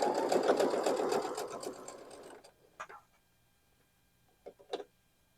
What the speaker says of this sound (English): I'm sewing it so that this seam here is going this way